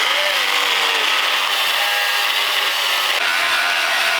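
A Sawzall reciprocating saw cuts steadily through a truck body, a loud, continuous buzzing rasp that runs nearly the whole clip and stops abruptly at the end.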